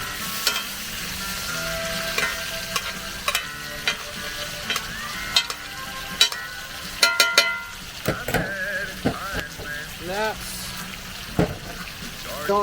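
Steady sizzling of food frying in a pan with garlic and butter on a camp stove during a cold winter camping trip in freezing rain, with clinks and scrapes of stirring and basting throughout.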